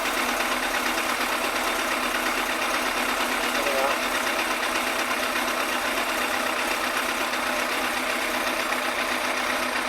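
A Yamaha FZR1000 EXUP motorcycle engine idles during carburettor balancing, giving a steady, even mechanical drone that holds unchanged throughout without any revving.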